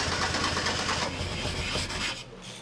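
A Ford Fiesta Mk1 engine runs steadily at idle, a close, even mechanical burble with a rough pulsing rhythm that drops off slightly near the end.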